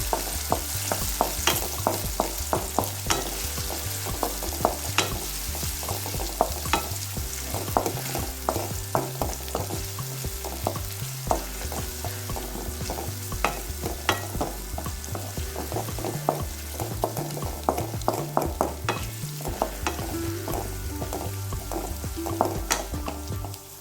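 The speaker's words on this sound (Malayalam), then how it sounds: "എന്നിട്ട് നമുക്കിത് എല്ലാം കൂടി നന്നായി ഒന്ന് വഴറ്റിയെടുക്കാം." Curry leaves and mango-ginger pickle ingredients sauté in a pan, with a steady rhythmic stirring that knocks and scrapes over a continuous sizzle. The sound stays close for the whole stretch, and no one talks.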